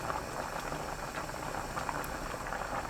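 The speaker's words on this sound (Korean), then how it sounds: "보글보글 끓으면 골고루 섞어주세요. 뚜껑 열어둔 상태로 2분 끓입니다." Bean sprout porridge bubbling in an uncovered pot on the stove, a steady, close simmering churn that runs without break and with no voices over it.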